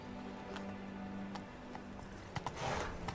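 Horse hooves trotting in The Witcher 3, a faint, steady clip-clop with a few sharper knocks near the end and no voices over it.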